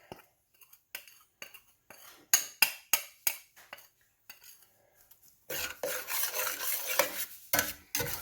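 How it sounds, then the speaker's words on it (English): A spoon stirs a Cincinnati chili mixture in a pot, first in a series of sharp, rhythmic scrapes and clinks against the metal, then in a denser, louder continuous scraping and mixing at close range. "Now stir this all in really good, really well."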